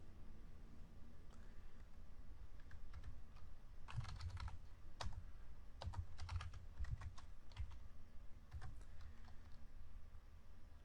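Quiet clicking on a computer keyboard while PL/SQL code is entered, irregular bursts of keystrokes with short pauses, close and faint.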